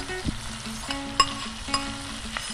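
Saltfish frying in a pan with onion, sweet pepper and garlic seasoning gives a steady close sizzle and crackle, with a few sharper pops and stirring clicks over about two and a half seconds and no talking.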